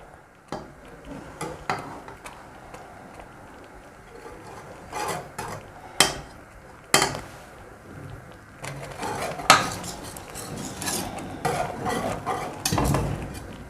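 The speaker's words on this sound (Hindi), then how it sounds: "मुसलसल चमचा चलाते रहना है, ये नीचे लगे नहीं" A spoon works through kheer, rice pudding of boiled rice and milk, in a pot, with scattered knocks and scrapes against the metal spread irregularly over a quiet background.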